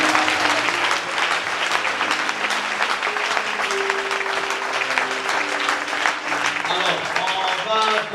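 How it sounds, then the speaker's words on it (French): A church congregation claps and cheers for a couple during a Sunday service, a loud, dense and steady wave of applause that runs throughout, with musical tones and voices faintly underneath. "Est-ce que tu peux acclamer pour le couple?"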